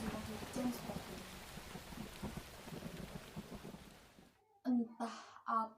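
Heavy rain during the rainy season, a steady dense downpour with low rumbling like thunder under it, fading out before a few short spoken phrases close the clip.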